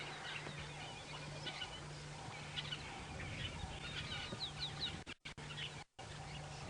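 Birds call around a waterhole on an early-morning safari drive, with scattered chirps and clucking calls over a steady outdoor ambience and a low hum, fairly distant.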